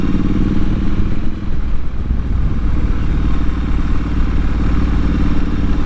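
Motorcycle engine held in second gear on a lakeside trail ride, a steady, loud mid-pitched drone with constant rumble and no shifts, filling the whole stretch without talk.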